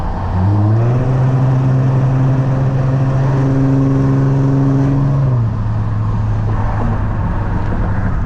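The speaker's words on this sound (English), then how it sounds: "the exhaust on the 2IS is actually crazy, bro" A 2013 Lexus IS350's V6 exhaust revs loud and close: the engine climbs to a sustained high-rpm drone, holds for a few seconds, then drops back to a rumbling idle.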